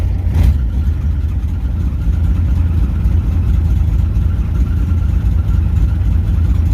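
A small 6-cylinder engine running at a steady idle, a low, even rumble that holds constant throughout, close by and with no talking.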